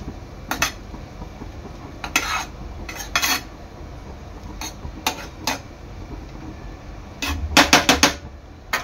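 Saffron coconut sweet rice being mixed in a pot, with repeated sharp metallic clinks and scrapes of a spoon against the pot in irregular bursts, the busiest cluster near the end, no talking.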